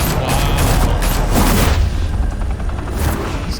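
Police open fire in the video game Batman: The Telltale Series, a loud, dense fusillade of overlapping gunshots and booms that rolls on steadily with no speech over it.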